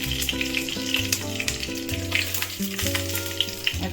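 Bay leaf dropped into hot oil in a pan for a fish-head and bottle gourd curry, giving a steady, close, crackling sizzle throughout with no talking.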